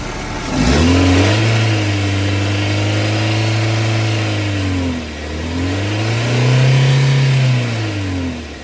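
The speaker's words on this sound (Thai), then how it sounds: "เร่งดูเร่งเครื่อง" A car engine with an overheating problem is revved twice while the coolant flows out, rising to a loud, sustained drone, easing off briefly, then climbing again before settling, with no talking.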